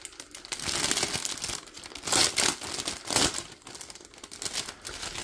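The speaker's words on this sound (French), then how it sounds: "Du coup, on va déballer ça tout de suite." Packaging from a cross stitch kit crinkles and rustles up close in irregular bursts of crumpling plastic and paper, rising and falling in loudness.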